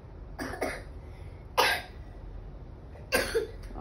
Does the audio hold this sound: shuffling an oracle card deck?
no